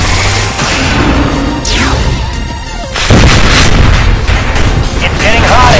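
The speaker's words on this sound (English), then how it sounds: "Super weapon activate." A super weapon fires in the Win Wing shooter, a loud swelling sweep followed by a heavy blast and sustained roaring barrage, all close and intense over busy game noise.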